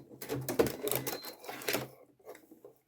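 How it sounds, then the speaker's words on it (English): Domestic sewing machine fitted with a zipper foot, stitching close to the edge of fabric from an old skirt: a rapid mechanical clatter in two to three short bursts, fairly close, then a quiet pause. "I've changed to a zipper foot so that I can just sew close to"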